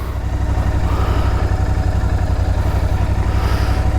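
A motorcycle just wheeled outside idles close by with a steady, throbbing low rumble that holds an even pulse throughout, with no talking.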